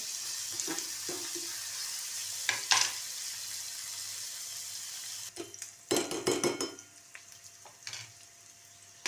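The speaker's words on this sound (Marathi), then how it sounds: "हा कांदा भाजत आलेला आहे" Onion frying in a pan for a dried fish (sukat) recipe gives a soft steady sizzle, broken by a few clinks and scraping bursts of stirring, the busiest stirring in the second half, with no talk.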